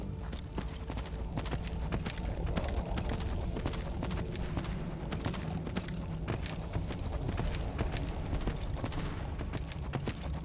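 Horse hooves clip-clop in a quick, steady rhythm in Skyrim, close and continuous, with a faint background hum beneath the regular beats.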